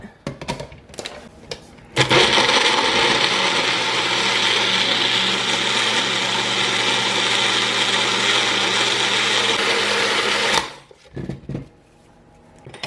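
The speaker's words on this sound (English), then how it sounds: "And then I'm going to use my magic bullet." A Magic Bullet blender whirs loudly and steadily for about eight seconds while blending a smoothie with oats and chia seeds, starting abruptly and cutting off cleanly, with faint handling knocks before and after.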